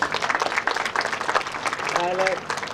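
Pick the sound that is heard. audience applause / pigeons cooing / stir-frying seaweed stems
audience applause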